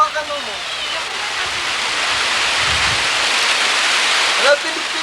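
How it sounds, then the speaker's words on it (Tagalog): Steady rain falls outdoors as a dense, continuous hiss, with voices heard briefly at the start and near the end. "I'm gonna try to get the rain."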